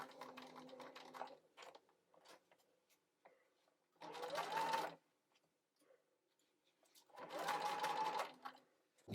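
A sewing machine stitches a sleeve facing along a stay-stitched line in two sustained whirring runs, each a little under a second long, between quieter handling of the fabric and light clicks.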